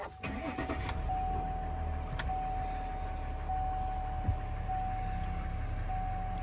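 A 2020 Chevrolet Silverado 1500 pickup engine cranks and catches, then settles into a steady low idle with a faint continuous electronic tone above it.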